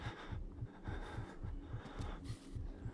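Steady, low, thumping heartbeat of a character in the Outlast video game, about two beats per second, muffled and rhythmic, repeating evenly throughout at moderate loudness.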